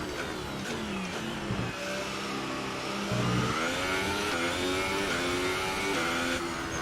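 In a racing video game, a Formula 1 car's engine revs steadily and climbs through several quick gear shifts, each change audible as a brief dip. The whine stays fairly quiet and continuous, with no talking.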